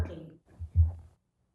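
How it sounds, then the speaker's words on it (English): Deep, booming thumps like a slow heartbeat, rising to two low pulses close together before fading into silence, heard indoors in a house during an eerie haunting. "Sounds like a heartbeat."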